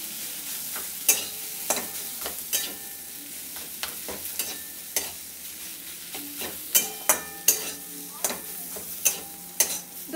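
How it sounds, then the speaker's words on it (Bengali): Potatoes with spices being stirred and fried in a pan, a soft continuous sizzle punctuated by sharp, irregular clicks and scrapes of a spoon against the pan, close and moderately quiet. "দুই তিন মিনিট মতো আমি আলুটাকে একটু নেড়ে নিচ্ছি।"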